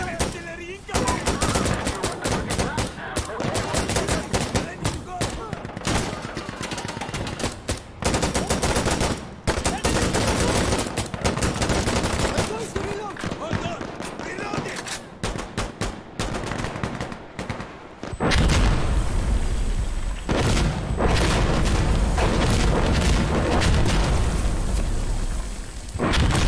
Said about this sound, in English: Requesting rocket barrage at position!